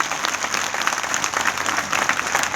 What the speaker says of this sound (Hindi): जोरदार ताली बजाए भाई के लिए।